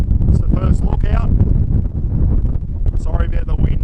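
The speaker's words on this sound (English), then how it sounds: "Sorry about the wind. Not much I can do about it." Strong wind roars across the microphone at a lookout at Kata Tjuta in Central Australia, a loud, continuous low rumble with gusty swells, and a voice is partly heard beneath it.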